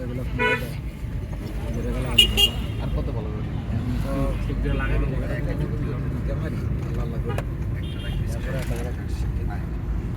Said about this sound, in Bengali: সুন্দরভাবে গাড়ি চালাচ্ছে